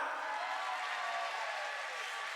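A crowd at a roller derby bout applauds. The sound is a steady, soft wash of distant clapping with no individual claps standing out, and it holds evenly throughout.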